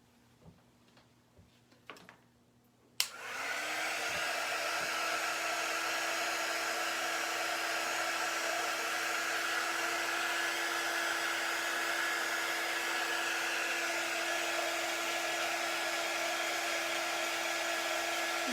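A hair dryer starts with a click and runs as a loud, steady, close whir for the rest of the clip while drying handmade holiday decor pieces; faint ticks and small handling sounds come before it switches on.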